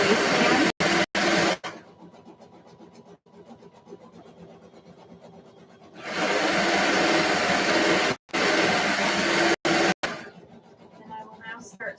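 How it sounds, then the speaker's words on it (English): A serger sewing machine overlocks a fabric waistband, its motor whirring in loud, steady bursts of a few seconds each, separated by quieter gaps with faint rustling and handling noise. "And now I'm serging as much as I can at this point. Serging the waistband."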